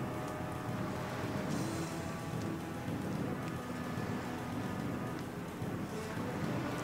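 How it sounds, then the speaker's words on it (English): Heavy rain pours steadily outside, a dense, constant hiss and patter with no breaks and a faint low rumble underneath, moderately quiet and heard alone without voices. "So this is some heavy rain we got going on outside."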